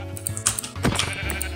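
Sheep bleat in the Minecraft video game, a few short, close calls alongside light clicking sounds.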